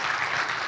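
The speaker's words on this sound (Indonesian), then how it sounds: "Boleh minta tepuk tangan nih Bapak sekalian?" Short burst of steady, dense applause from an audience of men at a military digital literacy event, close and continuous with no speech.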